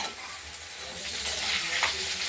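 Tomatoes fry in a pan with potatoes for a vegetarian aloo dum, giving a steady close sizzle with faint stirring that grows slightly louder toward the end.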